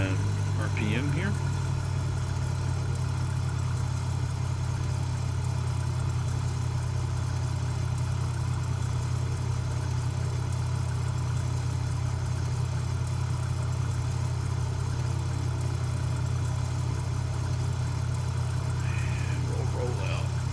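A Cessna 206H piston engine in a flight simulator game drones steadily as manifold pressure and RPM are reduced, giving a continuous low, even hum throughout with no talking.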